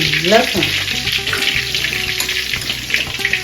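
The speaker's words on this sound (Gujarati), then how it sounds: "તમે વઘાર માટે મમ્મીએ લસણ નાખી દીધું છે" Garlic sizzles in hot oil for the tempering of a pav bhaji, a steady loud crackling hiss that fills the whole stretch, with faint clatter and a low hum beneath.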